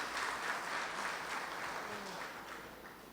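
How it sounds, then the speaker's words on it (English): Faint, distant applause from an audience at a university chancellor installation ceremony, a steady wash of clapping that slowly tapers off. "Please give her a big round of applause."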